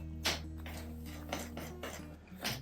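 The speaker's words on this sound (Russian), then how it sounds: "И теперь просто все это перемешать." Spoon clinking against a bowl while cake batter with cocoa and baking soda is stirred, a few distinct scraping clinks in an irregular rhythm over a steady low background hum, close and fairly quiet.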